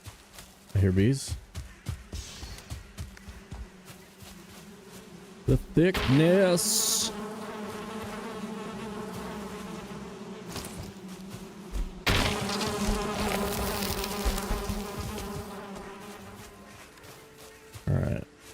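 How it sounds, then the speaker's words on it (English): Bees buzz in a hardcore survival video game set in Valhalla, droning steadily for most of the stretch beside thumps and other game noises, while someone talks over parts of it. "I hear bees."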